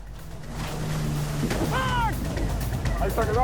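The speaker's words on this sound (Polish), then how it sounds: "Płyną tak szybko i robią takie zwroty, że każda z dwóch motorówek może się wywrócić." Powerful motorboats speeding at sea during a coast guard chase off a Spanish beach, a steady roaring engine hum with rushing water and wind, and a short whistle-like tone overhead.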